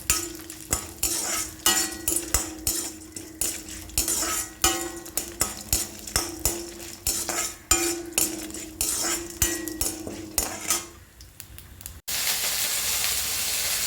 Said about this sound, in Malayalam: ഇഞ്ചിയും വറ്റൽമുളകും വെളുത്തുള്ളിയും നമുക്കിട്ട് പുളിയും കൂടെ ചേർത്തിട്ട് നമുക്ക് ചെറുതായിട്ടൊന്ന്